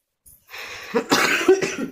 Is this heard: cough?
yes